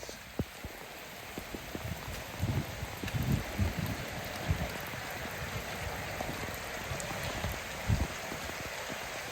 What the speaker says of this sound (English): There's a river going around my garden beds